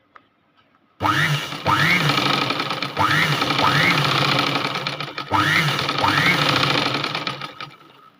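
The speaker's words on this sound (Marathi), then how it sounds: "आता आपण एक शिलाई इकडून पण टाकून घेऊया." A sewing machine stitches a blouse in three loud, close runs of fast, even whirring, each starting and stopping sharply, with a faint hum between runs.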